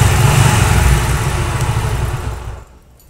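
Yamaha YBR Factor 125 motorcycle engine idling unevenly after a piston and diaphragm replacement, a loud steady close-up rumble that fades out near the end, with no voices.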